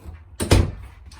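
A single close door inside a 2021 KZ Sportsmen 281BHSE travel trailer shuts with a short solid thud, briefly loud against a quiet room.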